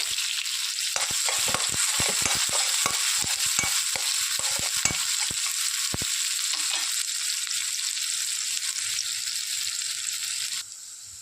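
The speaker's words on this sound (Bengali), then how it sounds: "পেঁয়াজগুলো ভালো করে লাল করে ভাজতে হবে।" Onions browning in a pan for pav bhaji sizzle loudly and steadily, with a quick run of sharp spatula knocks early on that thins out into continuous frying hiss; no voices.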